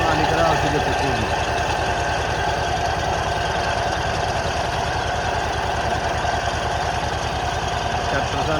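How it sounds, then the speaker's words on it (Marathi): A tractor drives between pomegranate orchard rows while spraying pesticide, its engine a steady, loud, close drone with a rapid regular throb that holds for the whole stretch. "ट्रॅक्टर चालला आहे पलीकडच्या लाईनीतून"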